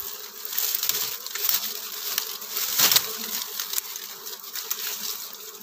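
Wild honey bees swarm in a dense outdoor buzz, a continuous close drone that swells and fades slightly, with scattered rustling and no talk.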